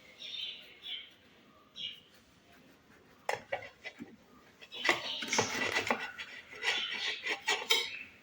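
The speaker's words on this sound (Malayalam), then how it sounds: "അപ്പോൾ നമുക്ക് ബണ്ണിനി നടുക്ക് വെച്ച് കട്ട് ചെയ്യാം." A knife cuts through a bun on a plate with quiet, irregular scraping and tapping strokes up close. The sounds grow busier and more frequent toward the end.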